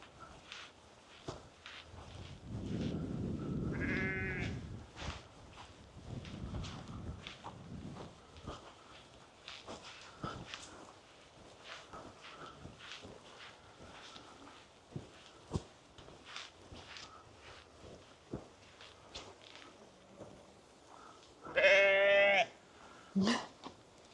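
Sheep bleat during a countryside walk in North Yorkshire, with two distinct bursts, one early and a louder, closer one near the end, over footsteps, rustling and outdoor ambience.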